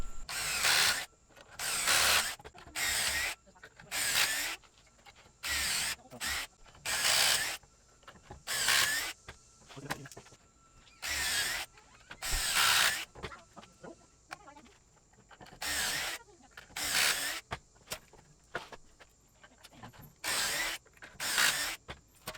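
A power drill whirs in repeated short bursts, stopping and starting over and over as it bores pocket holes into wood for a desk, close and fairly loud.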